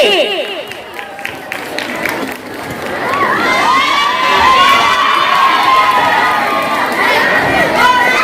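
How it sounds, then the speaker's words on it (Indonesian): A crowd of junior high school students cheers and shouts loudly after a speech, with scattered clapping, swelling into a sustained noisy roar of excitement. "Beri tepuk tangan yang mulia untuk Anissa Rahma dari kelas 8B."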